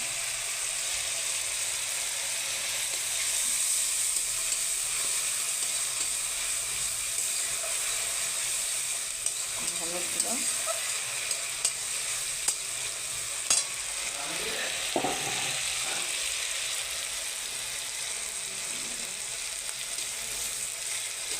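Turmeric going into hot oil for a fish curry gives a soft, steady sizzle and hiss, with a few faint clinks and stirs near the end. No one speaks.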